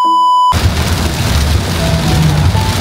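Steady rain falling outdoors in the Philippines: a dense, continuous hiss of falling water that starts suddenly after a short electronic tone and carries on loud and unbroken.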